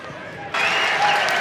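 A crowd at a 2024 college men's lacrosse game between North Carolina and Virginia breaks into applause for Virginia's new goalie, a sudden burst of loud, steady clapping that swells and holds to the end.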